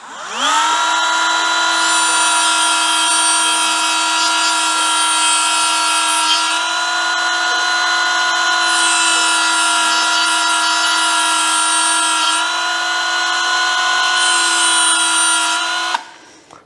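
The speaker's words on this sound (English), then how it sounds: "I will just do it carefully with my Dremel." A Dremel rotary tool with a cutting wheel cuts into a car part for an MX5 turbo build, a loud, steady high-pitched whine running continuously with slight shifts in tone, then stopping abruptly.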